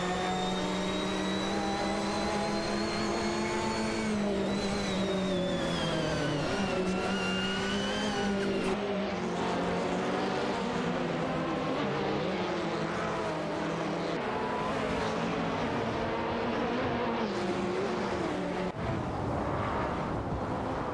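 Race cars roar in a racing video game, a Porsche 718 Cayman and a KTM X-Bow GT4 running neck and neck, with steady loud engine drone and rising, falling revs throughout, no voices.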